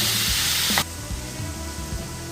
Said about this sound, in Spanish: Vamos a saltearla, es súper rápido esto. Saltear la cebolla